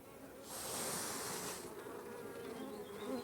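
Honey bees buzz steadily in a small hive box holding young bees and brood, a dense, close drone that swells briefly before settling into a constant hum.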